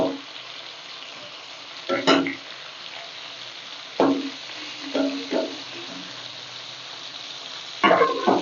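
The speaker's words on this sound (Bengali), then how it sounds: "মাছগুলো ভাজা হয়ে গেছে, এবার আমি তুলে নিলাম" Pieces of katla fish frying in hot oil in a home kitchen give a steady close sizzle, broken by several brief clinks and scrapes as the pieces are turned and lifted out.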